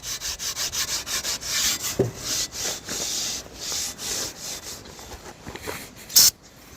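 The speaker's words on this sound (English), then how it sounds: "We're going to go over this with a little bit of Scotch-Brite." A Scotch-Brite pad scrubs the back of a 1956 Ford F500 truck in steady, rhythmic back-and-forth strokes, close and fairly loud with no voices, ending in a sharp knock.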